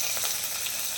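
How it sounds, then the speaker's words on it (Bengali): Chopped garlic, ginger and chilli fry in hot oil in a wok, giving a dense, bright, continuous crackling sizzle close by. "এখন আবার কড়া বসিয়ে দিয়ে একটু তেল দিয়ে দিলাম। একে একে রসুন, আদা কুচি, লঙ্কা কুচি"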